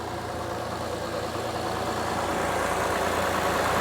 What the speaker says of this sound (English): the engine is idling very well